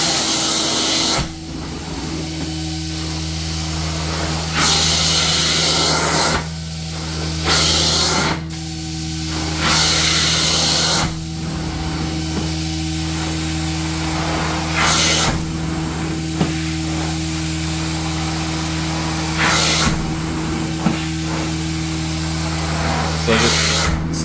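A carpet extractor works over heavily soiled white carpet, its steady motor hum joined by repeated bursts of spray and suction hiss in a loose rhythm, loud and close.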